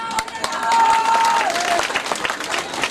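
An audience at a public rally applauds, brief dense clapping with a sustained tone running over it, rising then easing within a few seconds.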